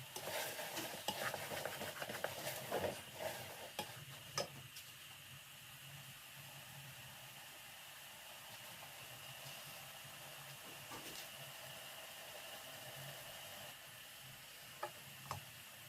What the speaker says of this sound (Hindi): ये देखें चने जो हैं हमारे बहुत अच्छे भुन रहे हैं।